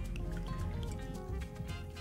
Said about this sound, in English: last, you're going to top off your drinks with soda water